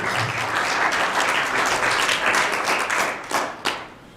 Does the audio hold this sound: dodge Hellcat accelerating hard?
no